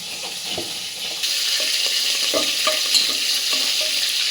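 Ginger garlic paste hits a hot pan and the frying jumps louder, a strong, close sizzle with spatula scrapes and stirring knocks scattered through it.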